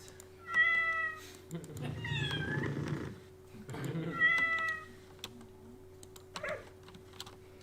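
Several distinct meows from a cartoon cat pet in an indie video game, played at a developer conference, with soft synthetic ambience between calls and no speech over them.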